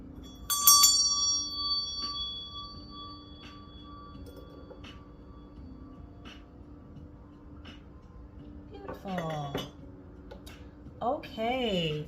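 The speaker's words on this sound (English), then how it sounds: "I am going to ring my meditation bell. It has a bit of a chime to it" A meditation bell struck once, a bright ringing chime with long sustained overtones that slowly fade over several seconds, followed later by brief speech.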